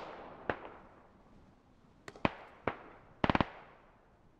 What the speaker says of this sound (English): I hear shots up here.